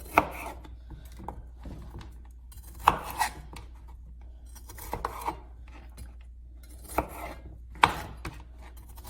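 A knife chops potatoes on a cutting board for seafood chowder, with sharp isolated thunks at an irregular, unhurried pace and scraping or rubbing between cuts.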